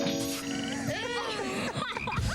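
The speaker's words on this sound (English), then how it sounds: "Frog." A frog croaks in a comedy TV promo aired during a FOX baseball broadcast, a series of clear, close croaks and warbling calls over a faint music bed with no talking.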